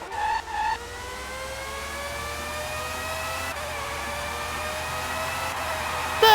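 A Formula 1 race car engine in the Formula 1 '97 video game, whining steadily higher as it pulls through the gears, with a brief dip near the start, loud and continuous with no talk.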